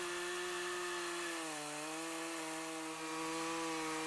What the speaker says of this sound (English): With a winch, chainsaw milling becomes so much easier because you don't need to use any force in order to get the chainsaw through the wood